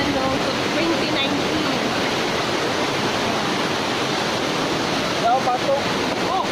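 Waterfall at Seven Falls Terraces in Lutayan, Sultan Kudarat, roaring as a steady, broadband rush of falling water that fills the whole scene, with faint voices briefly breaking through near the end.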